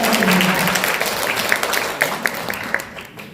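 Steady, dense applause from an indoor audience at an award ceremony and forum for outstanding legislators, a sustained wash of clapping that slowly thins out toward the end.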